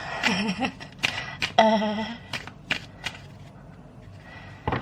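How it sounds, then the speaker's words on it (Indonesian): Tarot cards being shuffled by hand, a quick run of crisp riffles and flutters with sharp slaps between them, close and moderately loud, with a few soft vocal sounds mixed in. "Kita mulai ya, aku shuffle dulu kartunya. Maaf kalau berisik ya."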